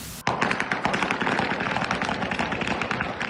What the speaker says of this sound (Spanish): Mira, así está Calama en este rato, a puro balazo.